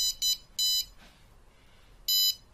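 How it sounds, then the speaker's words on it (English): A small buzzer wired to an Arduino gives loud, sharp electronic beeps, three quick bursts and then one more after a pause, in an otherwise quiet room. "So the buzzer is wired in pin number 2."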